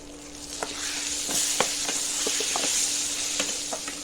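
Dried amla (Indian gooseberries) going into a hot pan, a steady close sizzle overlaid with scattered clicks and taps as the pieces are stirred, no voices.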